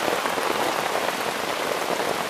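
Heavy rain drums steadily and densely on a shelter roof, a constant close hiss of countless drops with no pauses.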